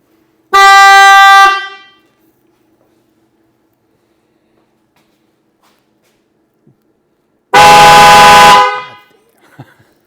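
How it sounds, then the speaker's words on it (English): Two different horns on an Indian Pursuit motorcycle sounding one after the other, each a loud, close, steady honk of about a second, separated by several seconds of quiet, the second horn fuller and lower-toned. "you can hear the difference quite a bit of the two different horns"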